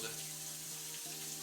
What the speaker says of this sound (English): I need to wash my hands because I handled